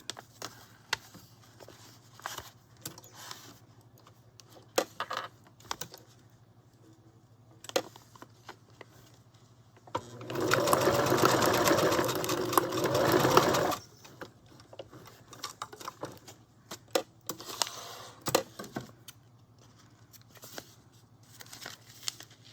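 A sewing machine stitches lace onto glassine bags in one steady run of a few seconds, with soft scattered handling taps and rustles before and after.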